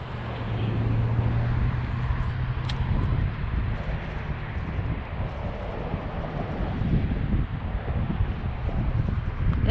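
Steady, loud wind gusting across a freshwater fishing spot, buffeting the microphone with a constant low roar and no voices.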